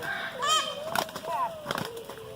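Chickens fight in a yard with peacocks nearby, producing sharp squawks and bursts of wing flapping at close range, with quieter bird calls in between.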